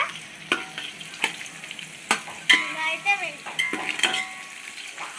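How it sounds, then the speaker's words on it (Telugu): Green chillies and onions fry in oil for a pulao with a crackling sizzle, broken by repeated sharp knocks of a spoon against the pan, heard close up. "ఇలా అయితే ఎర్రగా వేయించుకోవాలన్నమాట."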